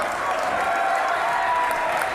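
A crowd applauds and cheers as it stands at a Big Ten college wrestling match, Northwestern at Maryland in College Park, a steady wash of clapping from a large arena, moderately loud.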